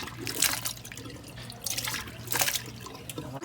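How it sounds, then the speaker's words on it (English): Pork neckbones rinsed under cold running tap water, splashing surges rising and falling as the bones are handled in the sink, close and without speech. "wash them a few more times. Make sure that this is cold water."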